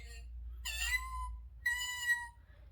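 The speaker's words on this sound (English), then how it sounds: "Can you mew like a kitten?" Two short, high kitten mews sound close and clear, separated by a brief pause, in a children's farm-animal read-aloud.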